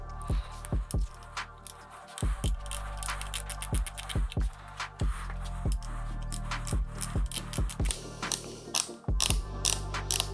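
A ratchet tool undoing Torx screws on the motor cover of a Bosch Smart System electric mountain bike, close clicking pawl runs in repeated bursts with short pauses between turns, loud and without talk.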